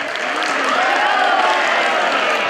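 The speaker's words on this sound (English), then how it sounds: "Come on guys, for men, bring it one more clap" An audience of students claps together at an induction workshop, a loud, dense burst of applause that swells and holds for a couple of seconds with cheering voices mixed in.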